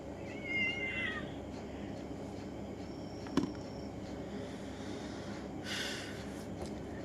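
A cat gives a short, fairly faint meow near the start, followed by soft snorts and breathy sounds in a quiet room.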